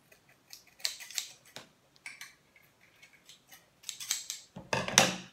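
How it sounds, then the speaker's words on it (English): Excess material is trimmed away over white plastic while setting the blades on Wahl Super Taper clippers; several crisp scissor-like snips and small clicks come close-up, with a louder cluster of snips near the end. "we're going to cut off excess that runs across"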